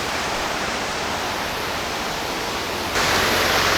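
Ezharakund waterfall in Kannur pours out a continuous broadband roar that swells noticeably louder partway through, with no voices present.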